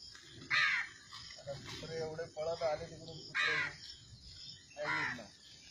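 Several crows caw outdoors in bursts of harsh calls spread across a few seconds, fairly close but quiet, with a voice talking in between.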